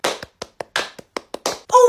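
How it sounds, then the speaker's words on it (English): About eight crisp, separate hand claps ring out in a classroom at an uneven pace, close and fairly loud, ending with a short tonal sound. "Everyone give Ella a round of applause."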